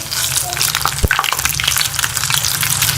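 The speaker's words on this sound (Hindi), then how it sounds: "दोनों साइड से गोल्डन कलर आने तक फ्राई कर लूँगी" Bread kebab cutlets fry in a pan of hot oil, giving a loud, close, continuous crackling sizzle with a single soft thump partway through as one is turned.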